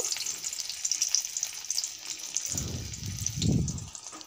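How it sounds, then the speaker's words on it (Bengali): A large cut green chili fries in hot oil in a kitchen pan, giving a fizzy sizzle with a few low, muffled bumps from the pan toward the end. "কাঁচা লঙ্কাটাও তেলের মধ্যে দিয়ে দেব।"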